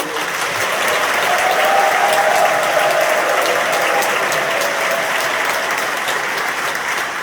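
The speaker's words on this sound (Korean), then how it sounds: "우리 박수 한번 하시죠" A church congregation at an Easter union worship service in Jeonju applauds a professor, a loud, steady wash of clapping that holds evenly for about seven seconds.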